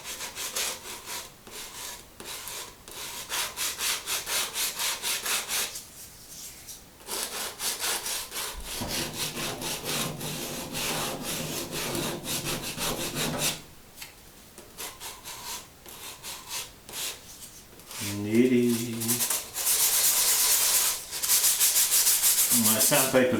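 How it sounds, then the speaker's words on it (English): Sandpaper rubs over wooden throwing sticks used for pottery, in close, steady rasping strokes that run in long stretches broken by short pauses. "I give them a once over with the sandpaper, so they're nicely smooth."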